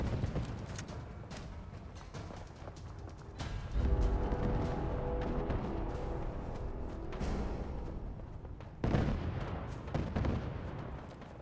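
Distant gunfire from super mutants battling gunners in Fallout 4 with the Sim Settlements 2 mod, heard as scattered shots and thudding reports with a rumbling, booming stretch in the middle.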